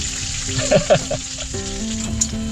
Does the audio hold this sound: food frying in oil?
yes